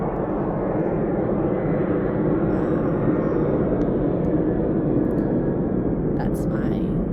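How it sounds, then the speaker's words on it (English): An airplane passes overhead outdoors near trees, giving a steady, loud broadband roar that holds unchanged throughout, with a faint voice barely present underneath. "I'm gonna wait for this plane to fly by."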